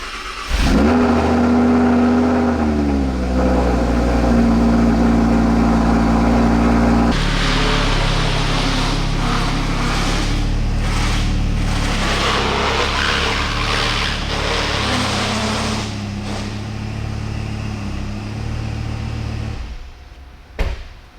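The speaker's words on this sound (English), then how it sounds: "why don't we start up and move the R8" An Audi R8 fires up with a sharp revving burst, settles into a steady idle, then rumbles louder and rougher as it is driven off, the engine close and dominant before trailing away near the end.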